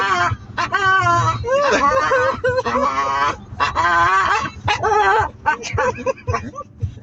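Staffordshire bull terrier making repeated honking, goose-like vocal noises in quick bursts, close and loud, with a person's voice faintly mixed in.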